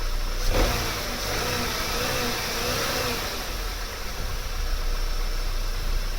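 A Vauxhall Vectra C 2.2 engine running steadily at a quiet, even idle, with a faint click near the start and no talking.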